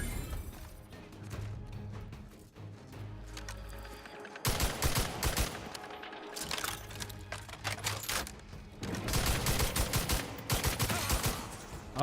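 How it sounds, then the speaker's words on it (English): Video game gunfire erupts in dense, rapid volleys, loud crackling bursts that stop for a moment and then start again, alternating with quieter stretches. "Why did I spawn into all this fucking gunfire?"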